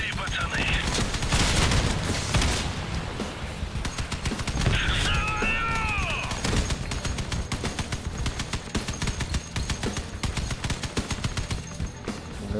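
Dense bursts of rapid gunfire and booms from vehicle combat in the game Crossout, loud and sustained, with whistling metallic tones midway and someone talking over the action.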